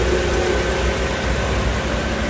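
A 2000 Mazda 323 engine idles steadily just after starting, a constant low hum and rumble heard close and alone with no talking.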